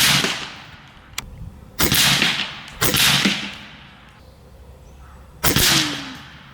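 Several sharp, loud cracks from an Air Venturi Avenge-XL .30 caliber PCP air rifle fired outdoors at targets, four distinct shots spaced a second or more apart, each with a brief echoing tail.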